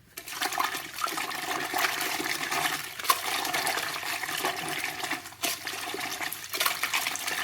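A crocheted bag is agitated, flipped and swished in hot soapy water, giving continuous sloshing and splashing with a few sharper slaps of water, close and fairly loud.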